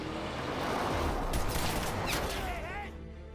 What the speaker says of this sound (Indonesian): Hugo yang sudah terlanjur emosi malah meluapkan dengan memuntahkan sejumlah tembakan ke arah mobil Alex.